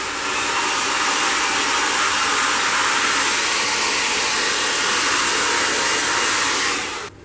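A heat gun warms faux crocodile fabric being molded over a barstool, blowing a loud, steady whooshing roar throughout and cutting off right at the end.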